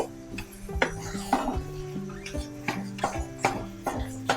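Olive pickle being stirred continuously in a pan, a utensil scraping and clanking against the metal in steady repeated strokes, close and fairly loud, with a faint sizzle underneath.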